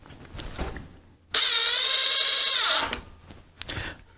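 A Ryobi HP heavy duty impact driver runs in a single loud, steady whine of about a second and a half that winds down at the end, between quieter bursts of background noise.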